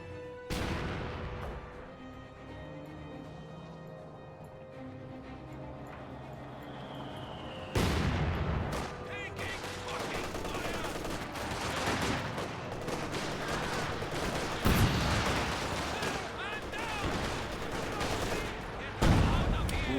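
Artillery barrage and gunfire in the video game Company of Heroes 2: quieter rattling shots at first, then a dense, loud stretch of booming impacts and crackling fire, with heavy blasts near the end.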